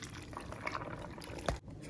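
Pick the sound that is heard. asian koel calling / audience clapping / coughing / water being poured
water being poured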